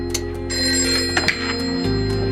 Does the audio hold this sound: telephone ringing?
yes